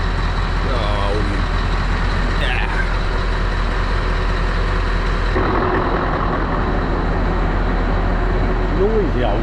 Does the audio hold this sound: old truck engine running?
yes